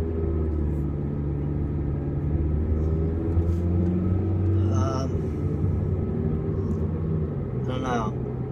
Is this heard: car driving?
yes